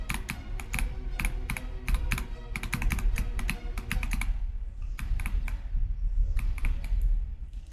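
Typing on a Wooting computer keyboard, rapid bursts of crisp close-up key clicks with short pauses between runs, clear and alone.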